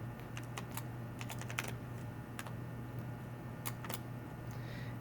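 Code typed on a computer keyboard while scripting in Unity: scattered light key clicks in short irregular runs, close and fairly soft over a constant electrical hum.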